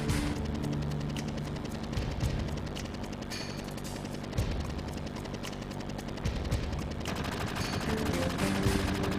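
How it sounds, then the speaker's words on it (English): Barrett's chain gun from Final Fantasy 7 rattles off continuous rapid-fire bursts, loud and dense, with a few heavier thumps punctuating the stream of shots. "Barrett has this animation where he is blatantly shooting his chain gun"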